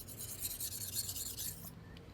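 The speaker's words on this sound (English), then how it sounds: "I'm just going to sharpen it few minutes on this one, then I'll sharpen it on the white one." A one-year-old kitchen knife is drawn across a Shan Zu 1000/5000 grit whetstone, giving a steady, faint, gritty rasp of blade on stone that fades out near the end.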